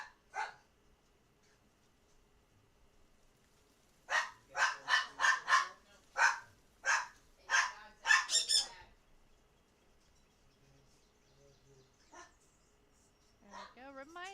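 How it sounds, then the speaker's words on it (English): Dog barking in the video game Palworld, a quick run of about eight sharp barks in a burst near the middle, with a couple of isolated barks before and after over a quiet background. "Alright, let's go, little dog."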